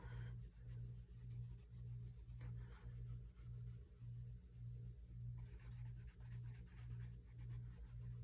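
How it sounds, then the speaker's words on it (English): Wax is rubbed onto the toes of a pair of shoes in quiet, steady back-and-forth strokes that keep an even rhythm of about two per second, close up and faint. "Get a little wax on here, and we'll just do the toes."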